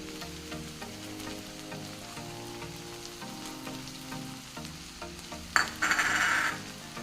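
Cabbage tomato curry with coriander is stirred in a pan, a soft sizzle under background music, then a louder burst of scraping and hissing near the end.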